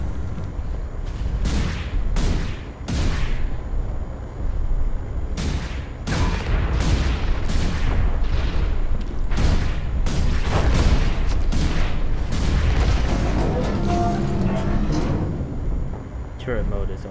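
Mech turret firing in the game Hawken: loud, heavy shots in rapid bursts, with a sustained barrage through the middle and rumbling impacts, while someone talks over parts of it.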